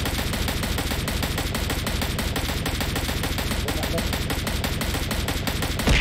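Rapid, continuous gunfire in the battle royale shooter PUBG Mobile, a dense stream of loud shots with little pause, heard alongside game sounds during a squad match.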